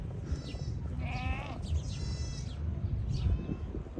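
Goats grazing near the old Alanya castle walls give several wavering bleats, some overlapping, over a steady outdoor background, fairly close and clear with no speech.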